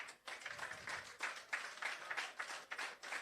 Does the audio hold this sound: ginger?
no